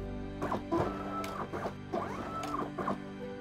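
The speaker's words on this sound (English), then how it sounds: "It's re-indexing to the firing positions based on the limit switch." A Halo SPNKr rocket launcher prop re-indexes to its firing positions on a limit switch, producing a series of clattering mechanical clunks and ratcheting whirs, about six bursts in quick irregular succession, close and fairly loud over a low motor hum.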